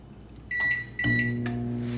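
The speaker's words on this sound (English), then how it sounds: "And then we're gonna microwave this for 60 seconds." A microwave oven hums steadily and close by, with a few short electronic beeps near the start.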